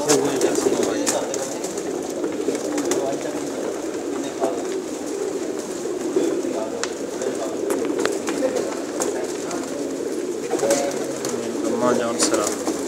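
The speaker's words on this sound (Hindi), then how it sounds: "बहुत नायाब कबूतर हैं, सेल करने के लिए रखे हुए हैं" Many pigeons cooing together in a pigeon shop, a dense continuous layer of soft coos and wing rustles throughout, with no speech.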